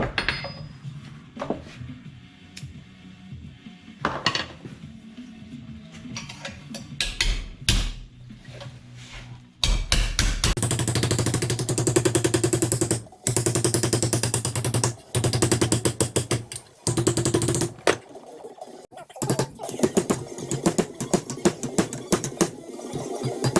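Steel extension bar from a 3/4 inch socket set striking a VW Type 3 Notchback body panel to shape a curve: sharp metallic knocks come in irregular clusters, with busy stretches of repeated blows and short pauses between them.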